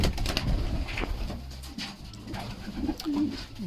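A red Ambrec pigeon from Border Lost Pigeons coos in soft, low repeated bursts near the microphone, with faint rustling and background noise between the calls.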